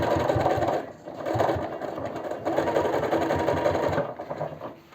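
A sewing machine runs a long, loud, steady stitching burst through denim jeans at a large stitch length, with brief pauses near one and four seconds and no talk.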